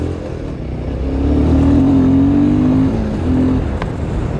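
A 2023 Royal Enfield Himalayan 450 motorcycle accelerates, its engine note climbing steadily in pitch and holding strong before easing off briefly and pulling again, loud and close with no talking.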